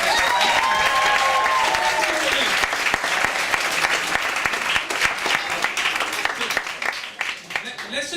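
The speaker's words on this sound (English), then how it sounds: "Can we have a round of applause for the organizers?" An audience at a comedy club in Munich applauds the organizers, dense clapping that swells and then thins out over several seconds, with a voice talking at the start.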